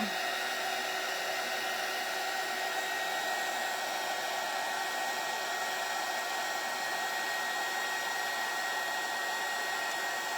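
A steady, continuous hair-dryer blast runs unbroken at moderate level, used to dry the painted edges of a Dollar Tree bunny craft.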